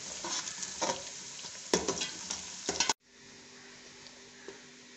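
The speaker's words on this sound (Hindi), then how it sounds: "प्याज को हमने ब्राउन करना है।" Onions frying and being stirred in a pan until brown, a steady close sizzle with a few sharper scraping clicks, cutting off abruptly to a quieter, thinner hiss for the last two seconds.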